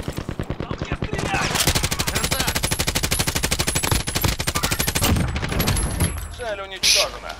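Sustained automatic fire rattles in a rapid, steady stream of close shots during a Call of Duty: Warzone match, ending in a few scattered bursts as someone talks briefly.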